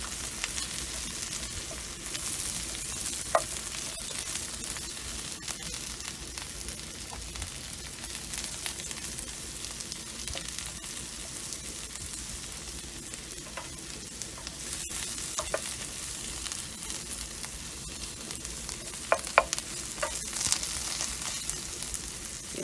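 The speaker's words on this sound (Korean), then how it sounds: "가지 다 넣어주시고 볶아주시면 돼요." Eggplant stir-frying in plenty of oil in a pan, a soft steady sizzle running throughout with occasional faint clicks of utensils, no voices.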